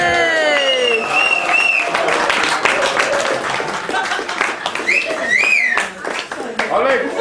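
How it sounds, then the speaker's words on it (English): Wedding guests applaud, cheer and scream in a loud, lively burst, with high whoops and shouts over continuous clapping and nearby voices throughout. "loads of round of applause, loads of screams, loads of cheers"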